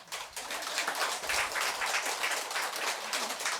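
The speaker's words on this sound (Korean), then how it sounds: "대답 안 한 거 살짝 넘어가려고 박수 치는 거예요?" Congregation clapping in a Buddhist temple during a monk's dharma talk, a moderately loud, even wash of many hands applauding together without pause for a few seconds.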